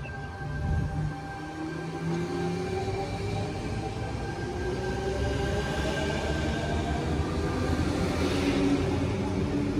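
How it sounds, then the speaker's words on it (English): Trains T63 and T104 pulling away from a station, a steady broadband rumble of wheels and motors with faint tonal whines, continuous and fairly loud throughout without speech. "T63 and T104 now departing."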